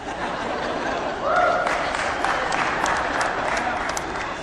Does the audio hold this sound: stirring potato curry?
no